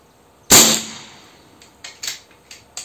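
An air rifle fires an AP pellet downrange at 30 meters: one loud, sharp crack with a decaying tail, followed by several fainter clicks and taps from the mechanism and target, no talking.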